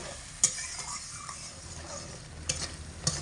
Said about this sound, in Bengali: এবার এই সমস্ত মশলা জলের সঙ্গে খুব ভালো করে হালকা আঁচে নাড়াচাড়া করে কষিয়ে নেব